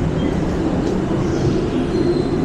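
Loud, continuous rumble of a light rail train running nearby at EDSA Station, with faint squealing tones from the wheels and no talking.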